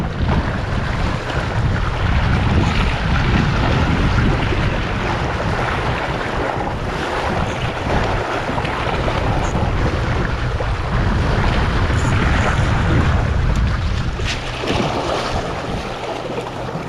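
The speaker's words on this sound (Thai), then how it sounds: "ลมค่อนข้างแรงครับ" Strong wind buffeting at the seashore near a rocky cape, a continuous loud roar of gusts battering the microphone over surf, with no voices.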